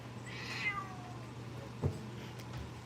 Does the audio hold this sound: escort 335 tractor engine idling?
no